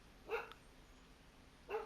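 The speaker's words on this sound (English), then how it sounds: "oh, there goes the dog." Two short bursts of a dog barking in the Prison Architect game on PS5, one near the start and one at the end, with a quiet gap between them and no talk.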